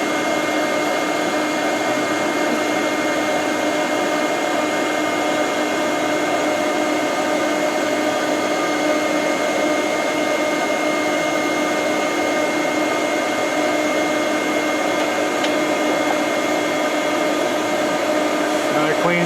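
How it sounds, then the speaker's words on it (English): Bee vacuum droning steadily as it slowly sucks bees out of a large colony in a hive, a continuous loud motor whine with a faint buzz of bees and occasional voices underneath. "So we're just slowly trying to vacuum out the bees."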